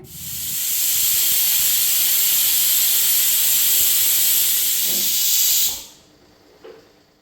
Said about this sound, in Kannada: ಇವಾಗ ನಾನು ಕುಕ್ಕರ್ ಲಿಡ್ನ ಕ್ಲೋಸ್ ಮಾಡಿಬಿಟ್ಟು ಮೀಡಿಯಮ್ ಫ್ಲೇಮಲ್ಲಿ 2 ವಿಷಲ್ನ ಹಾಕಿಸ್ಕೊಳ್ಬೇಕು